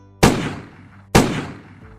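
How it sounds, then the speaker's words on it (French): Two loud, sharp gunshots about a second apart, each with a long echoing decay, heard alone without any voices. "des coups de feu se font entendre"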